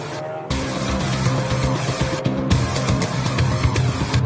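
Audi and other TCR touring race cars lapping The Bend Motorsport Park during a TCR Australia Series race, a steady engine drone with shifting pitch that holds for most of the stretch after a brief quiet start.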